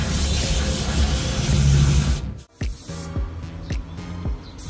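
Contact cleaner from an aerosol can sprays under a car around the oil pan area: one long loud close hiss, then a sharp cutoff followed by several short spray bursts and clicks.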